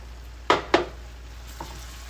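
Cream being stirred into a sizzling pan of bananas Foster for pancakes, two sharp scraping strokes of a utensil against the pan close together, then a fainter third, over a low background hiss.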